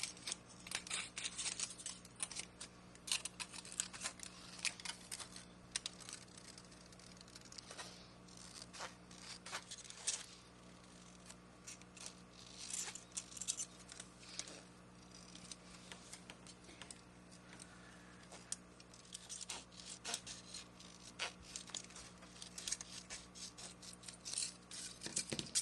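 Scissors snip through paper for a collage in a long run of quiet, rapid, irregular cuts, close and faint over a soft steady hum, with no voices.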